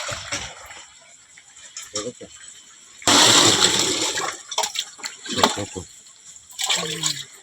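Water is poured onto a kitchen counter in a sudden gushing rush that splashes for a few seconds, then trickles off, with people talking before and after.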